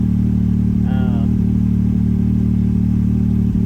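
Can-Am X3 side-by-side with a titanium e-valve electronic sport muffler exhaust, droning at a steady low idle, loud and close, with a brief high chirp early on and no clear speech.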